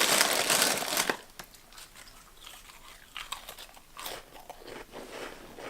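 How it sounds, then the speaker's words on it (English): Crackers crunched in the mouth nearby, a loud burst of crisp crunching at the start followed by softer, irregular bites and chewing crackles that flare again toward the end. "I would keep crackers at my bedside and crunch a few before I got out of bed."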